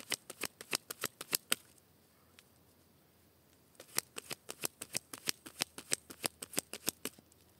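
A deck of cards is shuffled and cut for a card reading: two bursts of crisp, rapid riffling snaps, with a short pause between them, close and fairly quiet.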